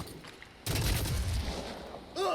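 A sniper shot fired from long range in the tactical game Phoenix Point, heard as a sudden, muffled boom followed by a lingering rumble, fairly faint overall.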